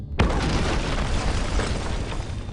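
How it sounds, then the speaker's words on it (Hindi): A huge explosion in a war movie bursts in with a sudden deep boom, then a loud, dense rumble of debris and roar that fills the remaining couple of seconds without letting up. "एक बहुत बड़ा धमाका हुआ।"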